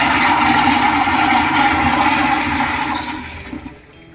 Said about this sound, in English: I noticed that in North America, I don't know, like the flush mechanism is built in some different way than in Europe